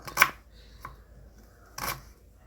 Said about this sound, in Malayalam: നമ്മള് ഇഞ്ചി ഇങ്ങനെ ചെറിയ പീസ് പീസായിട്ട് അരിയാണ്